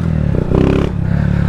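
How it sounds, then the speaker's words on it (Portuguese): A 160 cc delivery motorcycle fitted with a Dório aftermarket exhaust, heard close and loud as its engine rumbles and briefly revs up before settling back. "iFoodzão de 160 com escapamento Dório"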